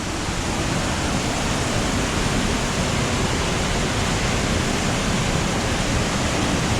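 Stream water at Kalanki Hills rushes with great force in a loud, steady roar that continues unbroken, close by, with no voices.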